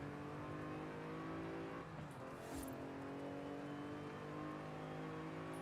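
A car engine in the Forza Horizon 5 racing game hums and whirs steadily from the first-person cockpit, a smooth sustained drone with a brief dip and swell midway, no talk.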